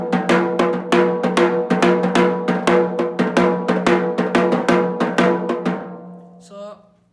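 Udal kailayavadyam drum played in the basic rhythm, with a steady run of sharp, ringing strokes at a fairly quick even pace that slows and stops, followed by a faint final resonance, with no talking.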